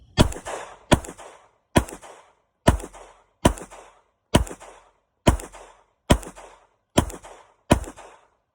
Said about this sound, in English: We'll go 10 shots again.